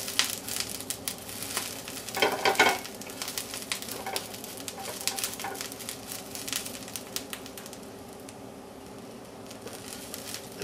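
Kale sautéing over low heat in a pan for a feta omelet, a soft steady sizzle with scattered crackles and a brief louder burst early on, fading quieter toward the end.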